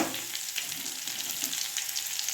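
Onion goes into hot oil with mustard seeds in a small pan for tempering, giving a continuous bright sizzle with small crackles and pops, moderately loud and close, no voices.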